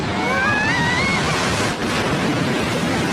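Large ocean waves crash with a continuous loud roar of surf and spray, and a faint rising whistle-like tone sounds early on.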